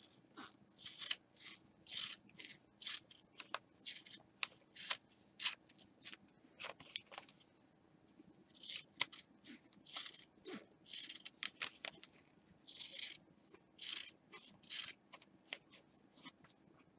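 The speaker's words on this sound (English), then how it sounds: "I'll go ahead and trim the rest of the excess from the around the edge of the bag" Scissors trim excess fabric from the edges of an in-the-hoop top zip bag, making crisp, close snips in quick bursts with brief pauses between cuts. No one speaks.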